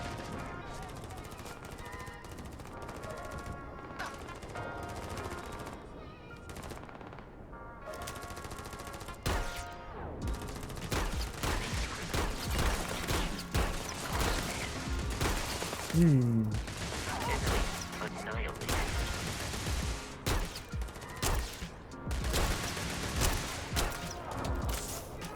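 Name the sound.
pistol gunfire in the video game Starfield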